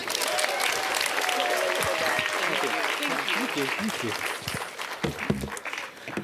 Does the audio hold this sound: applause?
yes